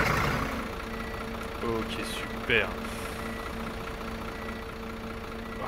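Irisbus Crossway coach in OMSI 2, its diesel engine turning over and settling into a steady idle, a constant hum with tonal lines throughout, while someone speaks briefly over it and a click or two sound inside the cab.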